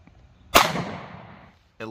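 A single loud, sharp 9mm gunshot from a Sig Shield pistol firing Sig V-Crown ammunition, close by, with a short decaying echo and near silence around it.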